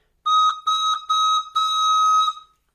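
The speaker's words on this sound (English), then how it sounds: "Let's try that again with our whistle." Whistle blown four times like a boat's toot, three short blasts then one longer one, each a clear, bright, close tone separated by brief silences.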